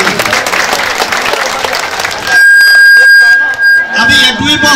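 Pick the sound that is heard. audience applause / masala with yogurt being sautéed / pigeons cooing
audience applause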